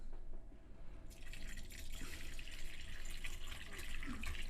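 Water runs from a tap into a sink as stained teeth are rinsed, a steady close splashing rush that starts abruptly after a quiet second and continues evenly, with no talking.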